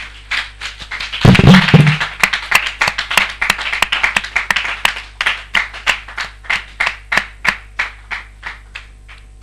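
Church congregation claps in praise, starting as a loud dense burst that settles into steady rhythmic unison handclaps continuing to the end, with a brief vocal sound near the start.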